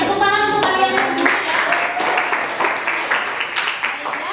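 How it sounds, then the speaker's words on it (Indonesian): Students in a classroom clap together after a presentation, with moderate, steady clapping under voices and some lingering tones at the start. "tepuk tangan untuk kalian semua"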